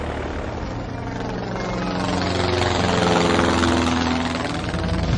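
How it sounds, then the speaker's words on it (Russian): Aircraft engines running in Medal of Honor: Airborne before the paratroopers' jump: a steady, low propeller drone that builds slightly and holds, continuous and fairly close. "двигатели самолета уже заведены, мы готовы взлететь"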